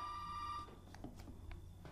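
An in-game telephone in the horror video game Resident Evil 7 gives a faint steady ring that fades out, followed by soft scattered clicks and footsteps under a low background hum.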